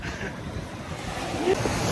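Surf and waves rolling onto a beach, a steady wash of broadband noise with some wind buffeting the microphone, continuous and fairly close.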